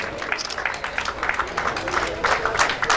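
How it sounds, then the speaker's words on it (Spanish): Audience applause at the close of an anti-drug community festival during a prize draw, a steady wash of clapping with crowd noise, swelling louder near the end. "fuerte aplauso"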